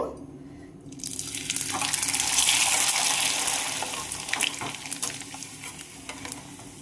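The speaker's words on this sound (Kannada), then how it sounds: "ಈಗ ಈ ಹಪ್ಪಳ ಫ್ರೈ ಮಾಡ್ಕೊಳ್ಳೋಣ." Papad dropped into hot oil, a short pause then a loud burst of bubbling sizzle that swells and slowly settles, with crackling pops up close and no talking.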